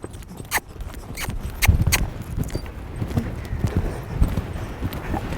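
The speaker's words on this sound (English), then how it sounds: "He's going to canter here, I can tell." A horse canters for the first time, its hooves clip-clopping in uneven, rolling beats that thud at moderate closeness against quiet outdoor background noise.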